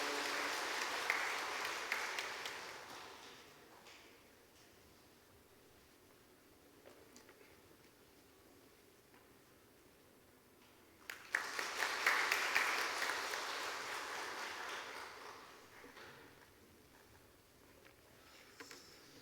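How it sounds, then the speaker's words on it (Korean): A church congregation at a Sunday service applauds in encouragement, with two separate bursts of clapping that swell and fade, the second louder and longer, heard in a reverberant hall. "다시 한번 격려의 박수 해주시기 바랍니다."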